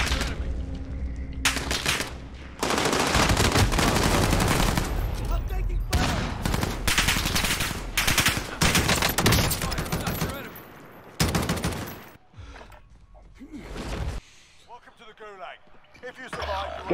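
Bursts of rapid gunfire from a World War II and Vietnam era shooter video game, loud and repeated in clusters with short gaps, mixed with voices talking between volleys.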